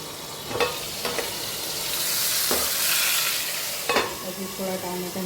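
Chopped tomatoes and asafoetida hit hot tempering oil, giving a loud, close sizzle that swells and eases, broken by several sharp spatula scrapes and stirring knocks against the pan.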